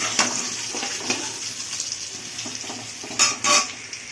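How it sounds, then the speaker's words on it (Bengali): Chopped onions and marinated chicken fry in hot oil with a steady close sizzle, broken by utensil scrapes and a couple of sharper clanks of a spoon against the pan. "পেঁয়াজটাকে এবার ভেজে নেবো।"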